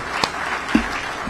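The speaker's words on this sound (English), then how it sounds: "Let's give Astor another big round of applause." Applause from a crowd at a state bill-signing event on community solar and energy storage, a brief steady wash of clapping punctuated by a couple of sharp, close individual claps.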